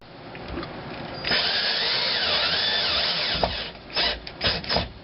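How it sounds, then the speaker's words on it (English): A cordless drill whirs steadily for a couple of seconds while driving a screw into a grocery bag holder being installed, then gives a few short bursts and a scrape at the end. "Gotta love a cordless drill."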